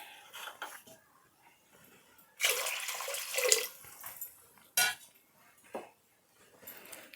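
Water pours into a pot of lentils for sambar in a steady rush for about a second, followed by a few light clinks of metal and glass.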